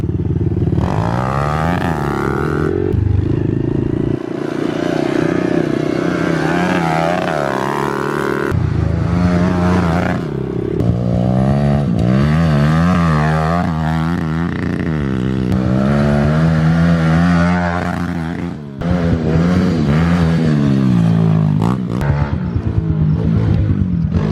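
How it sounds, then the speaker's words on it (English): Pit bike engine fitted with a Yoshimura exhaust, ridden on a small backyard track with jumps; a loud, close, continuous deep revving drone that rises and falls with throttle throughout, with brief dips between bursts. "Thing sounds beefy with that Yoshi on there."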